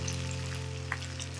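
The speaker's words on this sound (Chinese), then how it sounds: "炒出酱香味儿" Bean paste, ketchup and oyster sauce sizzle steadily in a wok during stir-frying for braised oxtail, a continuous close frying hiss with a low hum beneath and one brief scrape near the end.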